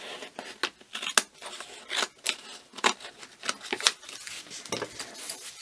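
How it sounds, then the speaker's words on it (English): Scissors snipping through paper while making journal edgings, a run of crisp close cuts in an irregular rhythm with no talking. "Then this one that we've just done, I'm going to cut along here."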